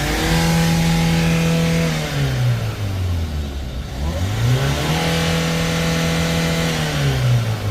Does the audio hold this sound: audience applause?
no